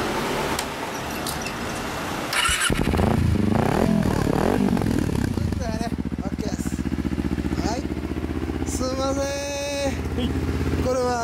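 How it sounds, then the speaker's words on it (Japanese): A lime green 2006 Kawasaki Ninja 250R with an r's gear WYVERN aftermarket muffler runs close by, its engine rumbling and revving steadily while people talk over it. "エンジン聞かせてもらえる？"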